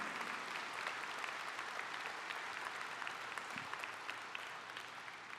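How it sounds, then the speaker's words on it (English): A convention crowd claps steadily and continuously, a dense wash of applause at moderate volume lasting throughout. "Let's give them a round of applause, if you would, please"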